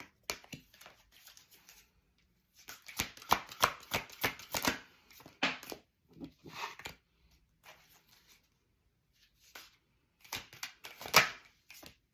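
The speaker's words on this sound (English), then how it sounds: "I'm going to pull all the cards first and then we'll talk through them" Tarot cards being shuffled and pulled from the deck, soft rapid riffles and flicks in bursts separated by quiet pauses, close and faint, with no talking.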